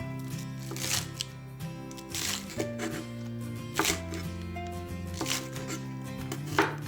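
Knife chopping scallions into sections on a cutting board, a series of crisp, irregular cuts, close and clear with no voices.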